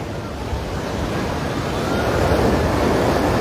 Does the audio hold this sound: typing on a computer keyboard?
no